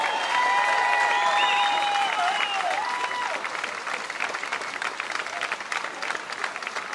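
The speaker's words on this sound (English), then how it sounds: "One more round of applause for Miss Liao." Dense crowd clapping for young soloist Pei Wen Liao after her performance with the Air Force Band of Liberty, strongest at the start and gently tapering, with a brief whistle and scattered voices in the mix.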